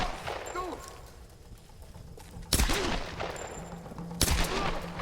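Gunfire in the video game Apex Legends: two loud sharp bursts of shots a couple of seconds apart, standing out over a quieter background of game noise and faint voices.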